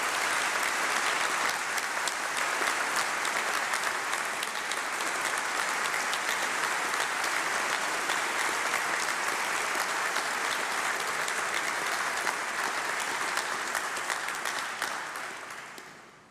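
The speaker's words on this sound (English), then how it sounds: "So join me in giving a round of applause for Cathy as well." An audience at a university graduation ceremony gives sustained applause, a thick, even roar of many hands clapping that continues for about fifteen seconds before tapering off at the close.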